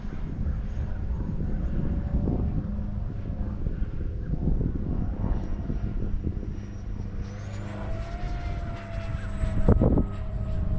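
A model F-22 jet flies outdoors in gusty wind, its electric ducted fan whining steadily at moderate distance under heavy wind rumble on the microphone, the pitch rising as the throttle climbs near the end.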